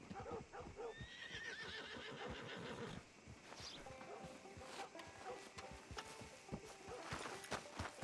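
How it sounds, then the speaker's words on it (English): A horse in the video game Red Dead Redemption II lets out a rising whinny over soft clip-clopping hooves, all fairly quiet, with more hoofbeats and small clicks following. "Where's my horsey?"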